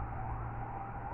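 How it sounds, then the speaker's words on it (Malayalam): An ambulance siren passes at a distance, a steady wailing tone holding above a low traffic rumble, faint and unbroken, with no voices. "ആംബുലൻസ് പോയ ശബ്ദമാണ് കേട്ടത്"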